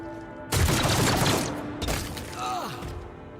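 Sniper gunfire in the video game Rogue Trader: two loud sharp blasts about a second apart, each trailing into a rattling burst, with a faint whistling effect after.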